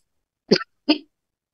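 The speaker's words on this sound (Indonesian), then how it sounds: "Oh, saya batuk ya." Two short, harsh coughs about a third of a second apart from a man lecturing on biblical theology, close and fairly loud, with silence before and after.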